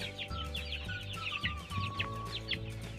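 Free-range village chickens gather in their rain shelter on a farm, clucking and calling close by in overlapping bursts over a steady low background hum.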